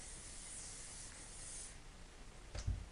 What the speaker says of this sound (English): You can just finish it with hairspray.